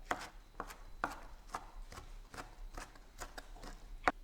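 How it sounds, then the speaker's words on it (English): A knife coarsely chops celery and parsley leaves on a board, with sharp, quiet, close knocks landing at a steady, unhurried pace, one clearly louder near the end, and no voices. "we take the leaves of our celery, the leaves of our parsley, and we do a pretty coarse chop"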